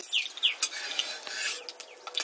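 Metal utensils clink and scrape against a pan while spices temper in hot oil, crackling softly in short bursts, close by.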